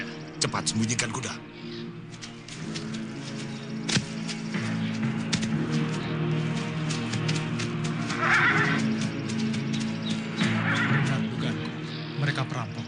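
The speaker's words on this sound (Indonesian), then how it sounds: "Cepat sembunyikan kuda." Horses neigh in a couple of drawn-out whinnies set against a busy, steady background bed, with possible hoof clip-clop and bird calls mixed in.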